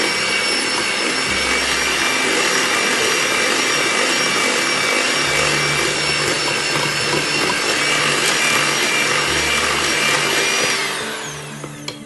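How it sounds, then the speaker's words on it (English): Electric mixer beating chocolate fudge truffle box mix, a loud constant whine running unbroken for about ten seconds before winding down at the end. "you want to mix this on slow until everything is combined, and then you want to kick it up to medium and mix it for about 2 minutes."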